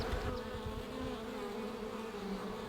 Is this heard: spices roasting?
no